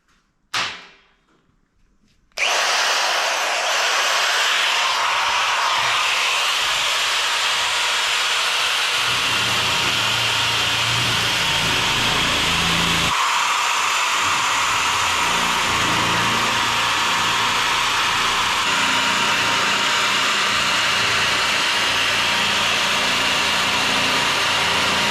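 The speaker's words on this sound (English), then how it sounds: "So I'll get the shears out, automated shears I might add," Automated power shears run with a loud, continuous, steady mechanical drone as they cut a BSA Bantam motorcycle side cover panel, starting abruptly after a brief quiet moment and holding unbroken to the end.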